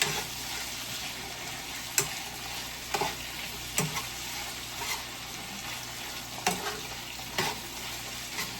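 Callaloo and saltfish frying in a pot give a steady soft sizzle, while a spoon scrapes and taps against the pot every second or so. The sound is close but fairly quiet.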